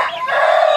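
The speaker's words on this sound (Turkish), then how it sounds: "Şu çok güzel bir horoz." An İspenç rooster crows once in a single loud, close, drawn-out call with no talking over it.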